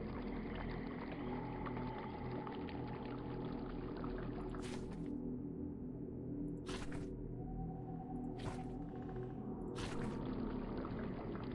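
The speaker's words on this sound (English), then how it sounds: "I hear bubbles in the water to the east." Underwater bubbling in a dark video game plays as a steady muffled wash of water, with a few brief sharp bursts standing out over the continuous background.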